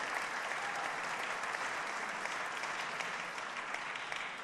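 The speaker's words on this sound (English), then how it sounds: "give him a round of applause" Steady, dense applause from a large audience at a state address, honoring a city mayor, filling the room evenly and continuously without a break or any voices over it.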